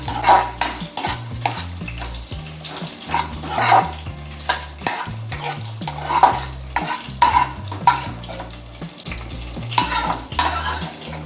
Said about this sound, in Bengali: গোটা ধনে, 3-4টে দারচিনি, 3-4টে এলাচ, 2-3টে লবঙ্গ শুকনো কড়ায় ভেজে দিচ্ছি